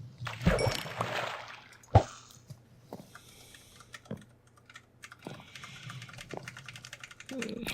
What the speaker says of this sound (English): the clacking of my mechanical keyboard